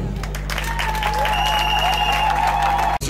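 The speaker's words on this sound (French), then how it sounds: "que je vous demande d'applaudir très fort" Strong, continuous applause from a crowd at a UDPS women's political meeting, dense clapping throughout with a sustained tone and crowd noise beneath, cut off abruptly at the end.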